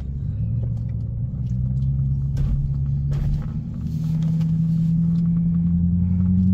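A car rolls slowly onto the Nürburgring at about 20 km/h, its engine a steady low rumble with a faint rising hum as it creeps forward, close and continuous throughout.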